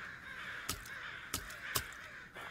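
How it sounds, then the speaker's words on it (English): Crows in the video game Worse Than Death give three loud, harsh caws spaced apart over a steady ambient drone, with a fainter fourth call at the end. "What is with all these crows?"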